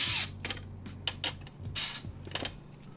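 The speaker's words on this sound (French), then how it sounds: "Je sais pas si mon tournevis manque de jus" An electric screwdriver running low on battery while driving screws into a Nintendo 64 shell gives short, uneven whirring bursts separated by clicks and pauses, close by with no talk.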